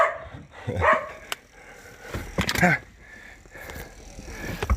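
A dog gives a few short barks and yips amid household noise, with a person speaking nearby.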